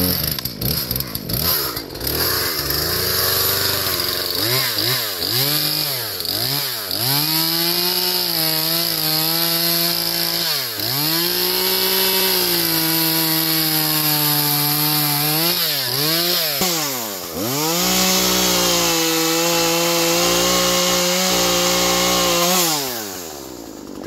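A gas-powered Husqvarna chainsaw cuts through wood, loud and close, with the engine pitch rising and bogging again and again as the chain bites in and eases off over a long stretch, with no talk.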